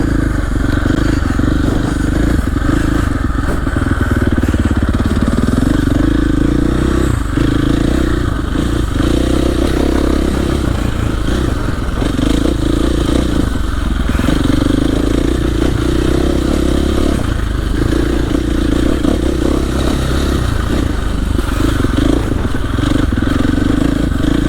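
A dirt bike engine lugs low in second gear, steady and loud throughout with a rough, throbbing pulse and clattering from the trail in rural central Maine, with no one talking.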